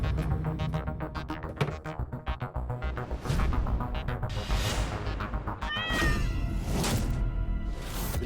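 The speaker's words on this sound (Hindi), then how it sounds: "बिल्ली की आवाज सुनी तुमने फिर?" A cat meows a few times, drawn-out and whiny, amid a busy background of music and noise.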